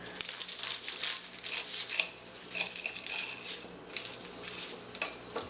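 Knife cutting open a crispy phyllo cheese triangle, a run of close, crackly crunching and crinkling bursts in uneven rhythm, with faint clinks of a plate or cutlery.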